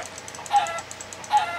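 Two short honking Minecraft chicken calls, a goose-like squawk repeated about a second apart over a low steady background hum.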